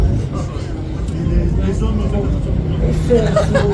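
Inside a moving bus on a trip to the Han caves, a steady low engine and road rumble fills the cabin, with faint voices murmuring underneath.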